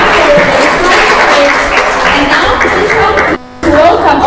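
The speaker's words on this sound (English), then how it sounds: "Welcome our evaluators with a warm round of applause." An audience at a speaking summit applauds, producing a loud, dense burst of clapping that runs continuously with a brief dropout before resuming.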